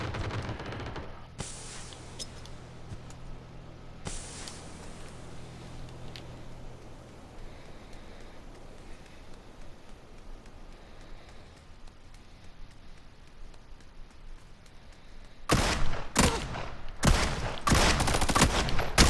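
PUBG gunfire, including a shotgun. Two sharp blasts come early over a low hissing ambience, and a dense cluster of loud, rapid shots closes the stretch.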